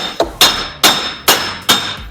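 Five sharp metallic hammer blows at a steady rhythm, knocking a wheel bearing and axle shaft out of a Suzuki Grand Vitara hub; each strike rings close and loud with a brief decaying tail, and no one talks.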